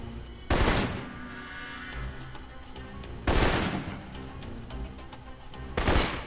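Assault rifle fire in the espionage RPG Alpha Protocol: three separate loud bursts of rapid shots spaced a couple of seconds apart, each followed by a ringing tail, with faint background game ambience between them.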